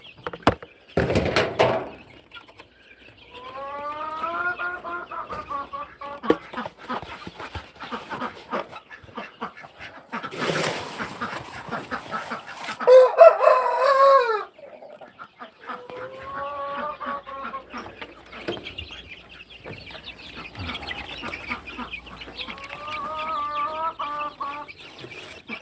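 Several chickens cluck in bursts around a backyard coop while a rooster crows nearby, with a brief bang like a door or lid near the start and faint rustling between calls.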